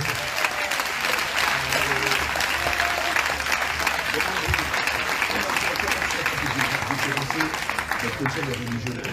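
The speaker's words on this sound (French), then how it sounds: "Acclame le Seigneur Jésus" Church congregation applauding and cheering during a deliverance service, a dense, loud, continuous wash of clapping and crowd voices filling the whole stretch, with shouting mixed in.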